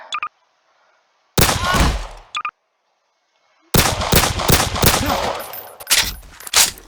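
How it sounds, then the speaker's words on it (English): M9 pistol fired in the game Garry's Mod: sharp gunshots in bursts separated by silences, with rapid shots packed together toward the end, loud and close. "here's the M9. Let's shoot it around real quick."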